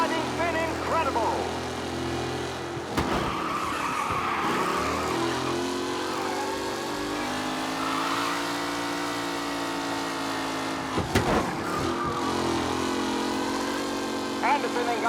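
Race car engines in Mafia: Definitive Edition roar and rev continuously with steady droning tones, shifting pitch as cars accelerate, with a couple of sharp bursts partway through.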